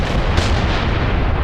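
An 88 mm gun in the Graviteam Tactics war game fires amid a dense, continuous roar of battle noise, with one brief sharper blast standing out early on.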